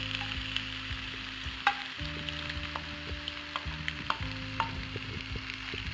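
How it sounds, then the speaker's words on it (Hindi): Tuna fish flakes fry in a tomato masala, a soft steady sizzle with occasional stirring taps and a low hum in the background, no speech. "अब हम इसमें टूना फिश फ्लेक्स डालेंगे।"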